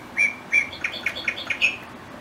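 A VTech Roly Poly Learning Tree toy plays bright electronic bird chirps, a quick series of seven high, clean tweets close up, the first two spaced apart and the rest in rapid succession.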